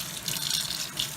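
Hot water running from a vanity faucet in an RV trailer, a steady close hiss of flowing water splashing into the sink, with no talking.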